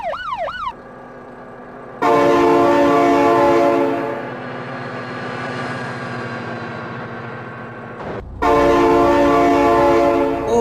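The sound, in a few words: train horn from a train in BeamNG.drive video game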